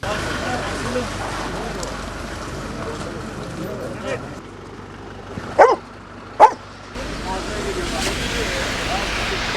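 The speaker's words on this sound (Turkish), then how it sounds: "Köpeğimiz enkaz altında canlı insan arama kurtarma köpeği." A search-and-rescue dog trained to find living people under earthquake rubble gives two loud, sharp barks close by, separated by a short pause, amid a busy outdoor background.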